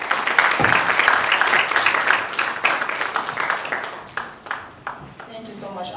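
Audience applause at an International Women's Day event, a dense wash of clapping that swells and then thins toward the end, mixed with crowd noise.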